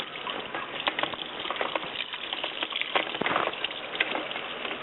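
Whirlpool washing machine filling with water, a steady hissing rush with small splashes and clicks, close and fairly quiet, heard alone.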